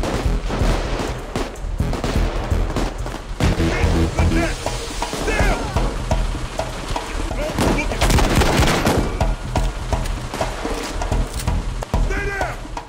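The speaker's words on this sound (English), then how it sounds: "I hear a lot of gunfire, but I'm not seeing too much action." Video game gunfire in Payday 2 during a heist: rapid, loud bursts of automatic and single shots crackle continuously, layered with in-game effects and intermittent voices.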